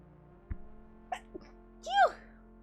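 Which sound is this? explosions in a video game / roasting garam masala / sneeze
sneeze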